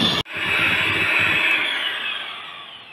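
An electric mixer beats cake batter for a vanilla ribbon birthday cake, a steady, close, high whirring drone that starts abruptly after a short click and slowly fades softer toward the end.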